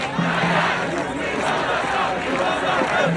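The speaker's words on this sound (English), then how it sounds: "So that's a pretty impressive crowd out there" Outdoor crowd at a Columbia University faculty walkout protest, a dense continuous roar of many voices with shouting and chatter blending together, loud and sustained throughout.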